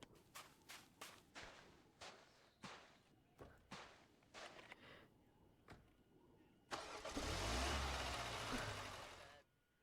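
In a Roblox driving game, a car engine cranks and catches, then runs loud and steady to the end. Before it starts, a series of sharp, evenly spaced clicks and thumps play alone.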